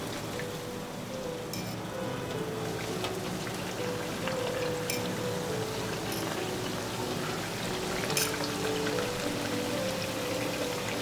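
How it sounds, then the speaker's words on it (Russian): Baursak dough pieces frying in hot oil give a steady, dense sizzle and crackle throughout, loud and close with no talking. "Жарится очень быстро, поэтому далеко не отходим."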